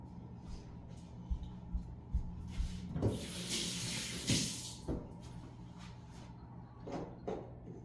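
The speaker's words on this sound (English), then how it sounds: "I'm just gonna wash my hands" Tap water runs into a kitchen sink while hands are washed during pie baking, a soft hiss swelling in the middle with a few knocks and clatters around it.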